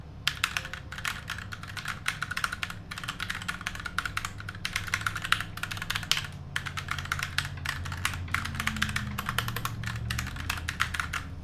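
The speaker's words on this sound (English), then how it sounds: "Typing test on the GMMK." Close, steady typing on a GMMK Compact mechanical keyboard with Gateron brown switches: a continuous run of brisk, even keystrokes with brief pauses and no voices.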